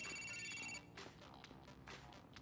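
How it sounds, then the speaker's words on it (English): A phone rings in the video game GTA IV: a clear electronic ring tone plays for under a second, then gives way to low game ambience with faint bursts of noise. "The phone's ringing."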